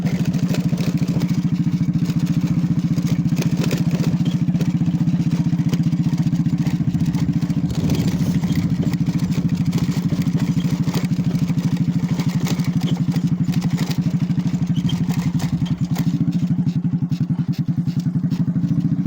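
A motorcycle fitted with an aftermarket silencer runs steadily nearby, its deep, rough engine note droning loud and unbroken with a faint rattling texture on top.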